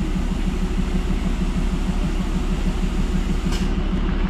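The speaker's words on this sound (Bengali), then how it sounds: "Toy train." Darjeeling toy train idling at Rongtong station, a steady low rumbling engine throb with a regular pulsing beat, moderately loud and continuous, a brief hiss near the end.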